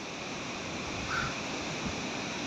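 Big ocean waves break on a beach at a beach farm lot in Kanaway, General Nakar, Quezon, making a steady wash of broadband surf noise. It stays moderately loud and unbroken, with no voices.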